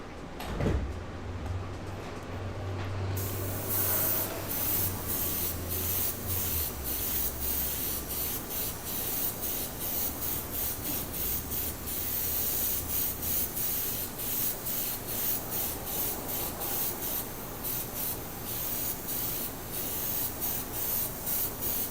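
An airbrush sprays a coat of 2Faced chameleon pigment powder in a steady, continuous hiss that runs throughout, with a low hum and faint rubbing noises beneath it.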